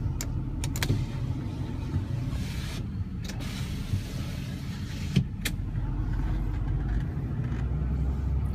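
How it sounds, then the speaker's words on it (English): The power rear sliding window on a 2012 Ford F350 FX4 turbo diesel truck runs with a steady electric motor whine, with a few sharp clicks at the start and middle. "Power rear sliding window."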